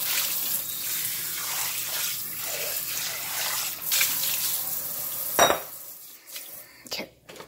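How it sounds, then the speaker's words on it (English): Water is poured and shaken out of a soap-dispensing pot brush over a kitchen sink, with wet splashing and trickling, clinks of dishes and a brief louder splash near the end, close and moderately loud. "So let's get rid of this water"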